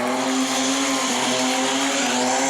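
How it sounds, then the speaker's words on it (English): A loud, continuous engine roar with screeching tires, sustained and unbroken throughout, a car doing a burnout in place at a burnout contest. "Now that is a good burnout"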